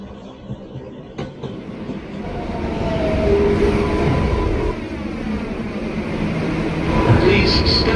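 An R142A 6 local subway train sits at a New York station platform, its low rumble and hum swelling steadily with clanks and rising motor tones while announcements play over it.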